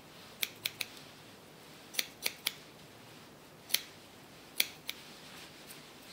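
Hair-thinning scissors snip sharply in small clusters of two or three cuts with pauses between, close and crisp against a quiet background.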